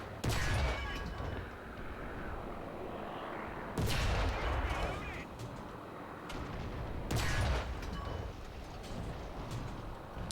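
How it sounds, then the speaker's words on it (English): Heavy tank cannon shots in War Thunder, a mid-century Russian tank firing at enemy armor, land as three loud booms spaced a few seconds apart over a steady rumbling engine. "Let me just shoot through his armor."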